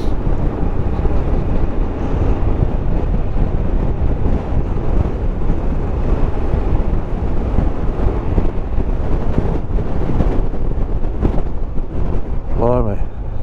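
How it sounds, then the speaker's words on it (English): Strong, continuous wind roars and buffets the microphone throughout on a hillside above a reservoir in Powys, with a brief voice near the end. "Blimey, certainly is windy."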